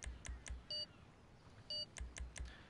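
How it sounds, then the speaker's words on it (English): Short electronic beeps in the video game GTA, two sets of three quick low pulses each followed by a single longer tone, faint and clean with no talk. "But you can hear the beeps"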